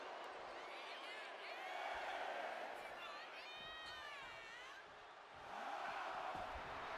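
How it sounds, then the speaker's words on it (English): Arena crowd in the wrestling game WWE 2K25 swelling into loud cheers and whoops during an AJ Styles match, a steady roar rising and falling beneath commentary. "Styles drawing a big reaction from the crowd"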